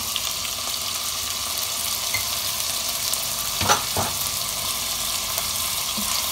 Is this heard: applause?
no